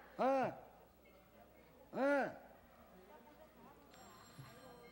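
A telephone in a 1983 Korean live TV broadcast studio for reuniting separated families rings twice in clear, loud bell bursts about two seconds apart, followed by faint low background noise.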